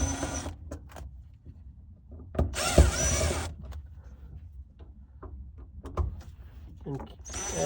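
A power tool backs screws out of a car part, giving short whirring bursts separated by quieter handling clatter, with a longer loud burst in the middle and another at the end.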